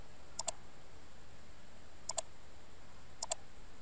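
Computer mouse clicked while working through an online sign-up page: three quick double clicks, sharp and fairly quiet, spaced a second or more apart over faint room hiss, with no talking.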